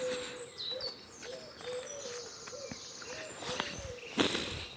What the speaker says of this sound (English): All the birds are singing.